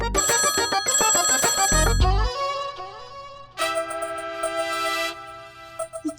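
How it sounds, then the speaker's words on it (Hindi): A bright electronic ringtone plays a quick melodic phrase, pauses, then repeats a second sustained burst, close and clear. "ये हमारा फोन है, 2 बार बज के कट हो जाता है।"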